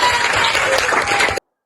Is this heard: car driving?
no